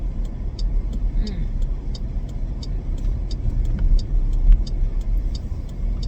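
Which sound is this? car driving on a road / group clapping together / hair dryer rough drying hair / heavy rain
car driving on a road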